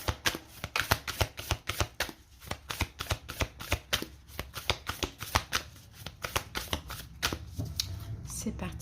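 Tarot oracle cards are laid out one after another, making a quick run of crisp, close paper snaps and flicks in an uneven rhythm.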